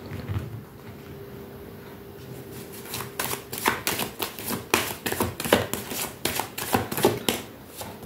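Tarot cards being shuffled by hand, a run of quick, crisp riffling bursts that starts after a quiet pause and continues in an uneven rhythm, close and moderately loud.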